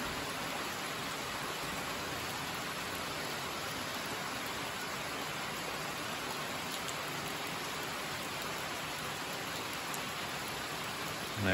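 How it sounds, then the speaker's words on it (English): Steady, even rush of water falling down a small backyard waterfall, holding the same level the whole time. No voices and no other sounds. "all that water from up there will be trickling down."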